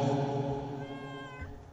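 A cat meows in the horror video game Layers of Fear, a drawn-out, wavering cry that sits close and fairly loud over a low game ambience.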